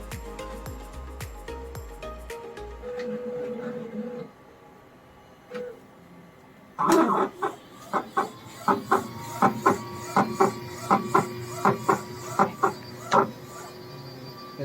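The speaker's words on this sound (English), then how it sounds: "The printing has started now." A modified Epson L1800 DTF printer runs steadily, then its carriage starts clacking in regular rhythmic passes over a constant vacuum whoosh and hiss, close by, with no talking.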